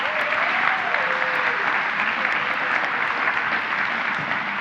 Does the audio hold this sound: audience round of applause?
yes